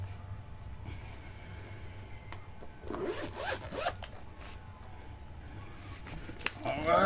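Zipper being pulled open on a Naruto Kayou trading card binder, a scratchy rasping run of teeth heard close, with softer handling rustles before and after and quiet talk in the background.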